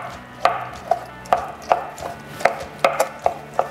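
A knife chops chiles on a cutting board in about a dozen crisp, sharp knocks at a fairly steady pace, close by and with no talking.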